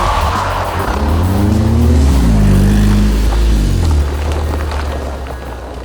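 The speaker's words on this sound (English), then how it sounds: "I think we ought to start with a little handbrake turn." A car revs hard through a handbrake turn on an off-road course, engine note rising and falling in sweeping pitch bends, loud and close, with tyre scrub beneath and the roar easing off at the end.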